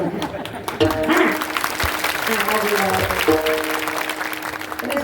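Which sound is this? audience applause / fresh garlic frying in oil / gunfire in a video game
audience applause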